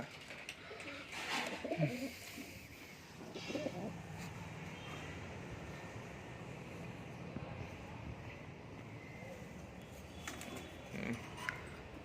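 Pigeons coo softly in a loft, with low murmuring calls over steady background noise and faint voices.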